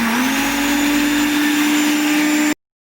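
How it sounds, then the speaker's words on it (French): A blender mixing a chili pepper marinade for braised fish whirs loudly with a steady high motor whine that rises slightly at the start, then cuts off abruptly into silence. "piment à cette marinade-là et mixer le tout"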